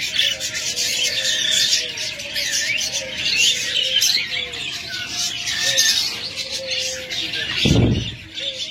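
Two pet cage birds chirp and twitter continuously at close range, the bright calls layered over a soft rasping rustle, with a brief low thump near the end.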